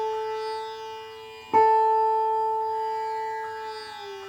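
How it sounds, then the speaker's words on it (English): Electric guitar string bent from G up to A, a single clean plucked note that slides upward in pitch and sustains, played alone and fairly quiet. "now I'm going to bend G up to A."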